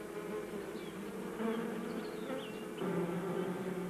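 Honey bees buzz steadily near their hive, a soft dense drone with a few individual insects passing closer and louder at moments, no voices present.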